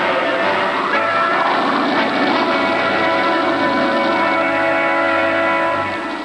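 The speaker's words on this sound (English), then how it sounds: "climbing aboard Rocky Maninoff's small plane" Small propeller plane flying in an old Tennessee Tuxedo cartoon, a loud steady droning engine with a buzzing tone held throughout, fading slightly at the very end, with no talk.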